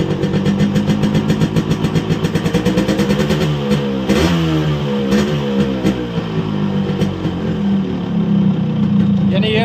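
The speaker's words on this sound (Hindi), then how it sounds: "तो ये जैसे बाइक रेस होगी थोड़ी" A Yamaha RX100 motorcycle engine with a magnet pickup coil problem, heard up close and loud, idling with a rhythmic two-stroke putter and then revving up and back down.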